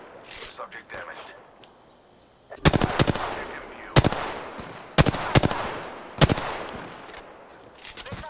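Apex Legends automatic weapon fire in short rapid bursts, four or five separate volleys spaced roughly a second apart, loud and close, with quieter game noise and faint activity between them.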